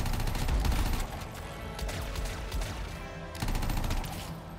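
Sustained bursts of rapid gunfire in the video game Anthem, loud and dense throughout, with a brief dip before the shooting surges again.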